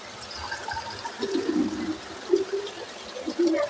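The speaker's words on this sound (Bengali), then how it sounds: "গরম জলটা এখন আমি ঢেলে নিচ্ছি" Hot water poured from a container in a kitchen, with a steady low splashing trickle rising and falling in short surges, fairly close and alone with no talk.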